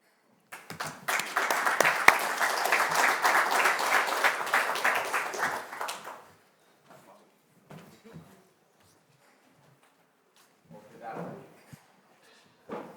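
An audience applauds at a business panel event, a dense, loud burst of clapping lasting about six seconds before fading, followed by scattered faint shuffles and a brief low voice near the end.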